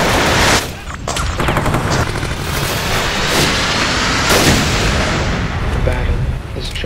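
Dense, loud gunfire and artillery-like blasts from sound effects for a fan-made Terminator trailer fill the whole stretch, with overlapping volleys and booming impacts and little letup.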